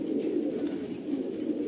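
Breeder pigeon in a loft cooing, a low continuous throaty coo heard close and steady, alone without talk.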